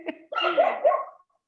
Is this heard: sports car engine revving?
no